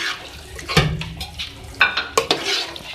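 A spoon stirs beef, potato and cabbage curry with chopped coriander in a pot, giving a few close scraping and clattering strokes over a soft sizzle, with no voices.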